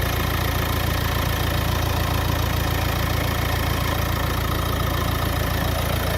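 A vehicle engine idles at a steady, even rumble for the whole stretch, close and continuous with no pauses; the cranking start is not distinct, only the running idle.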